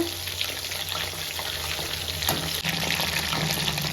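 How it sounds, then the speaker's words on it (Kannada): Prawns frying in a pan with a steady, close sizzle and faint spattering, plus light clinks of stirring, continuous throughout with no talking. "ಪ್ರಾನ್ಸ್ ಬೇಗ ಫ್ರೈ ಆಗುತ್ತೆ, ಬರೀ ಔಟರ್ ಲೇಯರ್ ಚೆನ್ನಾಗಿ ಫ್ರೈ ಆದರೆ ಸಾಕು."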